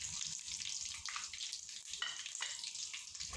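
Whole cumin, cloves, black pepper and black cardamom frying in a pan, a soft, continuous crackling sizzle with a few brief stirring scrapes, fairly quiet and with no voices.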